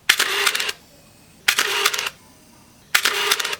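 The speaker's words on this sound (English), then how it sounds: "The winder is loud and the camera is even louder." Three loud mechanical bursts from a Pentax 645 medium format film camera, each a sharp shutter snap followed by the whirring film winder, spaced about a second and a half apart, close and alone.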